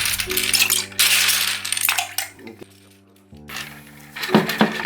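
Plastic keycaps from a MAXTILL TRON G400K mechanical keyboard clatter and clink as they are handled and dropped into a container of soapy water, in bursts of rattling with a short pause between.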